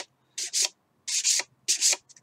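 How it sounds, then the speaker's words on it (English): Sandpaper rubs against the paper-covered edge of a model rocket fin from an Apogee Aspire kit in three short paired strokes, close and crisp, separated by brief silences. "I'm carefully watching how much I'm taking off the whole time I'm sanding"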